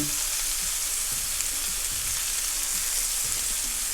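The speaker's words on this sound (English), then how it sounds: "So let's fry this for a little bit" Meatballs frying in a pan, giving a steady, loud hiss of sizzling oil with faint scattered pops underneath and no voices.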